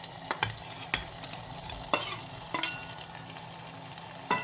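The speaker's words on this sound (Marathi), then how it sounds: "आता ह्यामध्ये मी घालत आहे हा पनीर" Paneer added to masala frying in oil in a pan, with a faint sizzle under sharp, spaced scrapes and taps of a spoon stirring against the pan.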